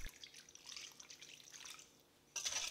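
Water trickles and drips into a bowl holding yeast and sugar, a short soft pour with a brief louder splash near the end, no talking.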